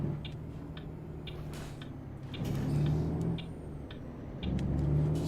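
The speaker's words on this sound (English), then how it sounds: "Something kind of nice about that blinker speed." A steady, soft ticking of a turn signal clicks in even rhythm over a low truck engine hum that swells and fades, in American Truck Simulator.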